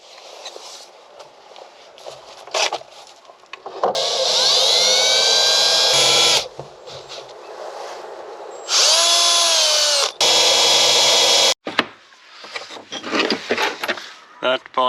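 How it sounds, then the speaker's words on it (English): A power drill whines loudly in several long bursts, its pitch rising and falling as it bores holes for handrail fittings, with clunks and handling noises between runs. "drill the holes."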